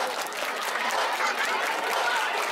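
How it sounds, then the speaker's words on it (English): Dancers at a Valentine's Day dance clap their hands in a dense, sustained patter from a crowded room, with faint voices mixed in. "Let me hear you clap your hand"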